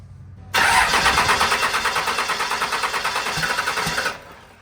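A car engine with new GT turbos and injectors cranks without catching. The starter churns in a loud, rapid, rhythmic pulsing for about three and a half seconds, then cuts off abruptly into quiet.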